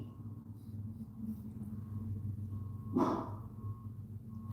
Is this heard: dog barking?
yes